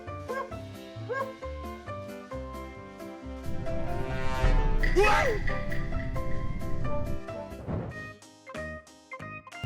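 A dog barks and yips excitedly in a few short bursts over steady background music.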